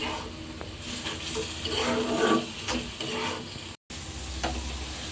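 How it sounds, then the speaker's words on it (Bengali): Small puti fish cooking with spices in a pan for a sour tomato curry, a continuous sizzle broken by frequent stirring scrapes and rattles. "পুঁটি মাছটা একটু মশলার সাথে কষিয়ে রান্না করলে ভালো লাগবে।"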